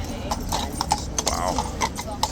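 Horse hooves clip-clop on pavement at Horse Guards in London, several sharp close hoof strikes in an uneven rhythm while someone talks over them.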